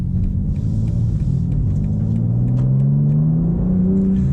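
A BMW M4 CSL's turbocharged inline-six accelerates hard, its steady engine drone rising in pitch as revs climb, loud and close with no talking.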